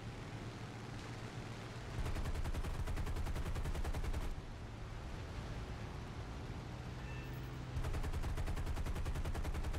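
Aircraft guns firing in War Thunder, with two long bursts of rapid, evenly spaced machine-gun fire over a steady engine drone, the second burst coming after a short pause.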